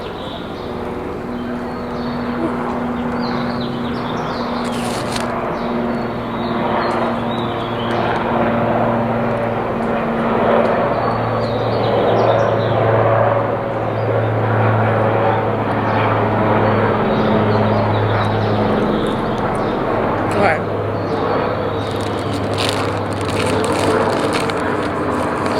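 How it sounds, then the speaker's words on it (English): A propeller airplane drones overhead, its engine hum rising and falling steadily for the whole stretch with faint background sounds. "Now let me wait till the plane leave."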